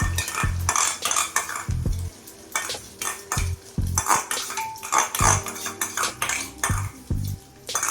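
Egg mixture seasoned with black pepper is poured into a pan, with repeated metallic clinks and scrapes of a utensil against the cookware and a faint sizzle underneath, in an irregular rhythm and close by.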